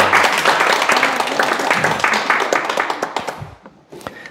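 An audience at a Sunday lecture claps warmly, a lively burst of applause with some voices mixed in that thins into scattered individual claps and then trails off.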